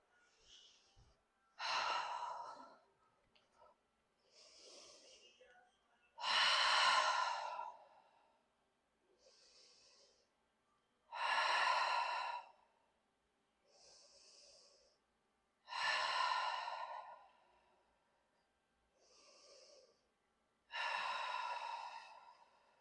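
Slow deep breaths during a yoga downward dog pose, loud sighing exhales alternating with quieter inhales in an even rhythm, four clear cycles heard close up.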